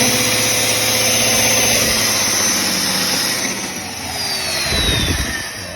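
Power drill driving bolts while fitting a steel bullbar, a sustained high whining motor drone that dips midway and then returns with heavier rattling, near and loud with no speech.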